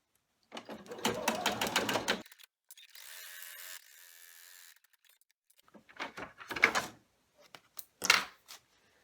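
An embroidery machine stitches the material tack-down for a small stuffed virus toy in a tiny 4x4 hoop, heard up close as short bursts of rapid mechanical needle chatter separated by brief pauses.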